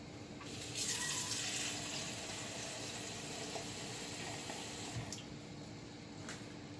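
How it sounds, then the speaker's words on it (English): Water poured from a container into a pot of sautéed pork while preparing filling for green banana pasteles, a steady close splashing and rushing pour that swells early and continues evenly throughout. "I'm adding 4 cups of water."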